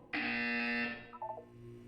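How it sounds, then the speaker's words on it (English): A buzzer sounds in the video game Portal 2: one loud, harsh electronic tone that holds for nearly a second, then cuts off into a few short fading chirps, with no talk over it. "When you hear the buzzer, look down at the floor."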